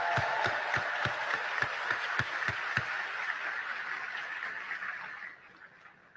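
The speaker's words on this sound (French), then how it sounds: "puissent nos applaudissements sincères t'inonder de joie" An audience applauds at a ceremony in Haiti honouring Dr. Aristide. The clapping is dense and steady, with a few sharp claps standing out, then it gradually fades away.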